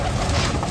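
Breeding pigeons cooing inside a loft, a brief, soft, low burble set against steady background hiss with no talking.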